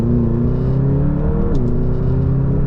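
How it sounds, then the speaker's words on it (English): A McLaren GT supercar engine with muted exhaust roars steadily as the car accelerates, its pitch rising, dipping briefly at a gear change, then climbing again, loud and close. "They've muted the exhaust a little bit, but it still leaves you in no doubt that this is a supercar"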